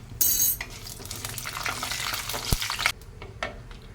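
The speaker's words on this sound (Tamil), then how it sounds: "கடுகு சீரகம் பொரிஞ்சு வருது பாருங்கள்" Mustard seeds and cumin crackle and spit in hot oil for a prawn and radish dish, a dense burst of sizzling with small pops and a spoon clink, then settling quieter.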